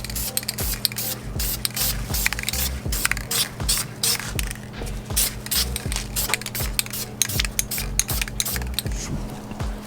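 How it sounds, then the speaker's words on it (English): Aerosol spray can applying a coat of red paint to car parts, a steady hiss broken by frequent short bursts and clicks, close and fairly loud, with no talking. "First coat of red is about to go on."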